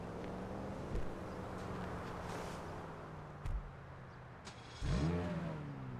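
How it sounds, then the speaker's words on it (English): An Itali GTO sports car in GTA 5 Online idles with a steady low engine drone, punctuated by a few short, sharp revs, the last one swelling loudly before settling. "Let's jump in, listen to how the car sounds."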